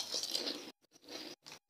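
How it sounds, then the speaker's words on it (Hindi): Crispy fried sago (sabudana) papad being bitten and chewed close up: a loud crackling crunch, then several quick, shorter crunches with brief silences between them. "बहुत ही कुरकुरे पापड़ हमारे, ये देखें तैयार हैं।"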